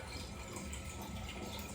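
Water running into a container for a power shake, a faint continuous hiss-like flow with no talking.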